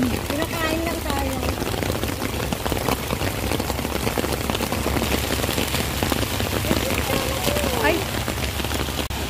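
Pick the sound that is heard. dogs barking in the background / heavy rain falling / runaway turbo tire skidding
heavy rain falling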